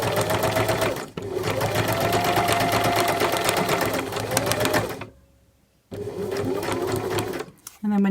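A sewing machine stitches a princess seam along the notched edge of a bodice front, running in a steady loud whir for about five seconds. It stops briefly, then stitches again. A voice is heard over it.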